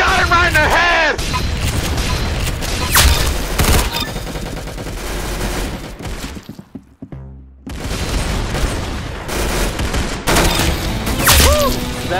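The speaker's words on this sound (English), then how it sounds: "That's some beautiful shooting right there." Loud, dense gunfire and booming shots during a killstreak in a first-person shooter game, repeated bursts nearly throughout with a brief lull, while people talk excitedly over it.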